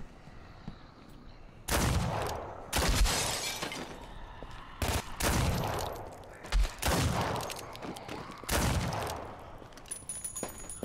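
Gunshots in the video game Contagion come as several loud, separate blasts and short bursts, each with a sharp crack and ringing tail between quieter gaps.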